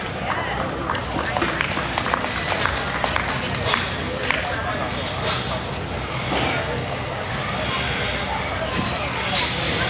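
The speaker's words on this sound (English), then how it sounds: "If you would please give them a round of applause." A dense, continuous crowd roar of applause and cheering fills an arena at a purebred gilt show, with Berkshire and Chester division pigs and their exhibitors in the ring, loud and steady throughout with voices mixed in.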